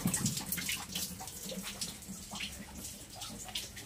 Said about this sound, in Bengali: তো এদিকে দেখো জল ওভারফ্লো হয়ে পড়ছে